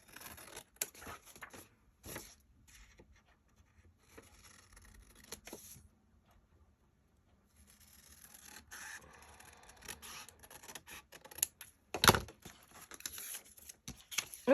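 Scissors cutting around a paper accordion file folder: close, intermittent snips and paper rustles with pauses and a near-silent stretch, then busier cutting with a sharp louder snip toward the end, no talking.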